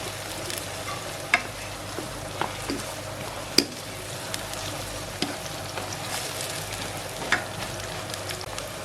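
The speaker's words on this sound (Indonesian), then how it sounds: "Aduk rata aja sampai sosisnya sedikit berubah warna atau matang. Kita aduk terus sampai sedikit layu." Sausage and vegetables stir-fried in a pan as filling for potato risoles give a steady close sizzle, with scattered clicks and scrapes of stirring throughout and no talk.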